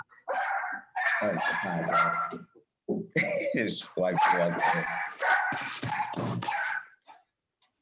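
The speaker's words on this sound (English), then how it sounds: "Again, y'all hear my dog." A pet dog barks and yips repeatedly nearby, loud and persistent, mixed in with men chatting casually over it.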